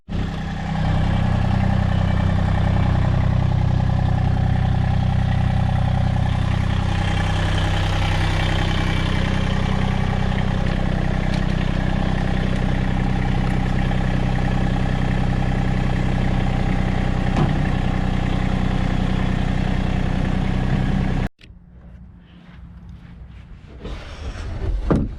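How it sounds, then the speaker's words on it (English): A tractor engine runs loud and close at a steady idle-like drone for about twenty seconds on a hot, clear day at a farm coop build site, then cuts off abruptly, leaving quieter outdoor background. "I'm gonna haul this out with the tractor,"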